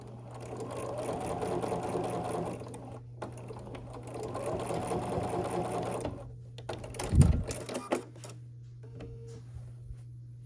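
A sewing machine stitches a scrappy quilt block in two sustained whirring runs, then a back stitch to secure the seam, followed by a couple of soft knocks; close and steady, with no voices.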